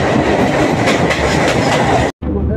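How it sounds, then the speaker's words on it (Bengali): The Shalimar–Bhojudih Junction Aranyak Express rushes past very close and loud with a continuous roar and rhythmic clickety-clack of wheels over rail joints, cut by a brief dropout near the end. "শালিমার ভজুটি জংশন আরণ্যক এক্সপ্রেস বেরোলো।"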